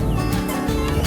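A rooster gives a short run of close clucks over a steady outdoor background.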